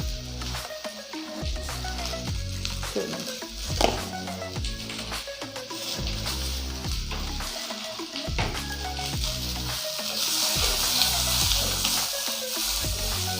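Vegetables lightly salted sauté in a hot pan, a continuous crackling sizzle broken by repeated stirring scrapes and soft knocks, close and steady with no talking.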